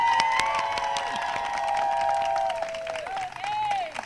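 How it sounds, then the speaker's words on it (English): An outdoor crowd at a Pride flag raising outside Somerville City Hall claps and cheers, with applause running steadily while loud voices and shouts carry over it. "Please give another round of applause"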